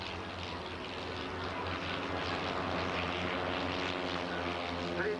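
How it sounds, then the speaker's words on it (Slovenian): A club propeller aircraft at a 1998 airshow in Celje drones steadily overhead, its engine hum constant and fairly loud, building slightly as it passes. "Klubski letali."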